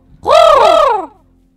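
A single drawn-out caw, a person's voice imitating a crow, close and loud for about a second, followed by silence.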